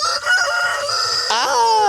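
A rooster in a chicken coop crows loudly and close by, a drawn-out, strained call with a rising break near the end.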